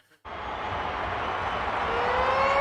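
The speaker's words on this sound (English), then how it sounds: "There's the siren." A long, steady siren sounds at full time of a 2023 NRL rugby league match between Parramatta Eels and North Queensland Cowboys, starting abruptly and holding loud and continuous over stadium crowd noise with no speech.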